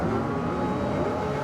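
Racing sidecar engines revving hard on the starting grid at the FIM Sidecar World Championship at Grobnik, Croatia, a dense, loud, rising roar of several motors layered together.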